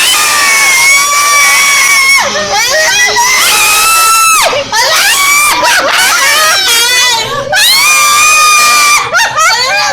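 A large crowd shouts and screams loudly and continuously during Pope Francis's visit to the Philippines, high excited voices surging and overlapping with barely a break.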